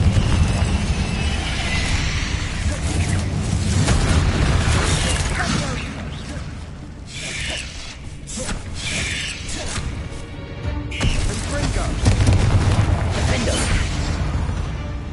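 Spell explosions in the Hogwarts Legacy video game, a dense run of booming blasts, crashes and shattering debris layered over game music, loud and continuous with a brief lull midway before the barrage resumes.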